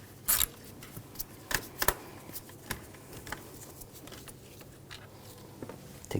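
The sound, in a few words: loosening a bolt on a BMW X5 engine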